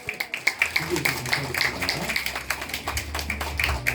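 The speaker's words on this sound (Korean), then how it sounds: "여기까지 박수 쳐주시면 감사하겠습니다" An audience at a welfare center play presentation claps, a short burst of moderately loud applause with distinct individual claps, while someone talks over it.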